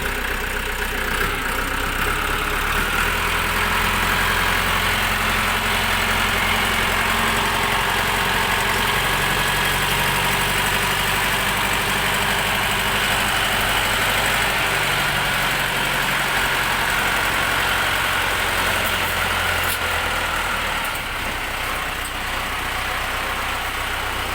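A Shifeng 404 four-cylinder, four-wheel-drive mini tractor's diesel engine idles with a steady, loud low rumble and vibration, continuous and unchanging throughout.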